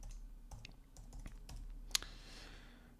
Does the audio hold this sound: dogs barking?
no